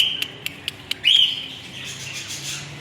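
Birds in an aviary at a hospital, a few quick sharp chirps followed by one louder squawk, close and distinct over a quiet low background hum.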